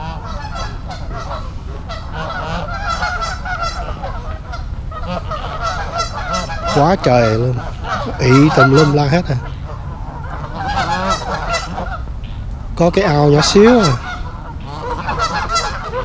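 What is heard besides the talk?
geese honking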